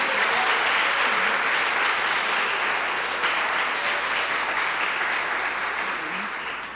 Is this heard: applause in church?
yes